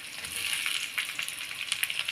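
Chopped tomato sautés with softened onions in a hot pan, giving a steady close sizzle with soft crackling pops and a light stirring scrape, with no voices.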